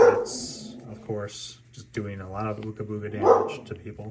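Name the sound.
dogs barking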